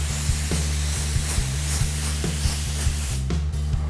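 A spray gun lays coats of paint onto a test card, giving a continuous airy hiss held steadily over a low rhythmic mechanical pulse, close and even with no speech.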